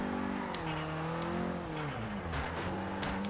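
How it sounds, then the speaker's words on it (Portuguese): A car revs hard and drifts in the Forza Horizon 2 racing game, in a Kombi and Fusca championship. A loud, steady engine drone shifts in pitch throughout, with brief hissy bursts that suggest tire slip. No one talks. "Faz mais um drift aqui."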